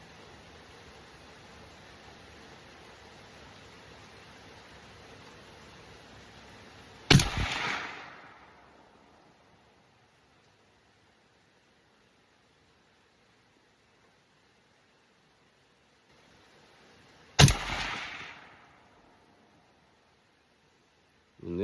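A battle rifle with a 1-10 or 1-12 twist barrel fires Remington USMC 150 grain rounds. Two loud, sharp reports land about ten seconds apart, each with a short decaying echo, and a low steady hiss comes before the first.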